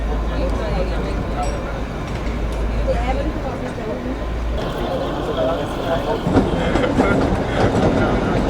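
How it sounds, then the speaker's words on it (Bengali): The Kalka-Shimla toy train pulls away from Dharampur Himachal station, its wheels rumbling and clacking steadily on the rails from inside the carriage, loud and close, while people talk over it. "এখানে 2 মিনিটের হল্ট দিয়ে আমাদের ট্রেন আবার ছেড়ে দিল ধরমপুর হিমাচল রেলওয়ে স্টেশন থেকে।"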